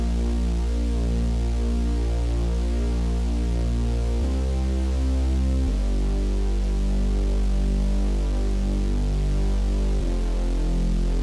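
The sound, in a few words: muted saw bass layered with sine sub bass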